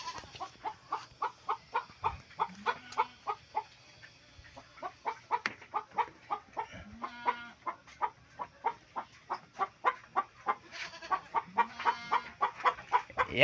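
Broiler hens settled on their nests to lay, clucking in a steady, close rhythmic stream of short calls, broken by a few longer rising notes, with no talking.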